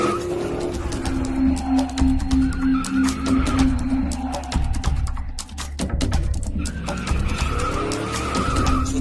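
A taxi speeding through a chase with tires screeching hard, loud continuous squealing over a roaring engine and road rumble from start to finish, with no talking.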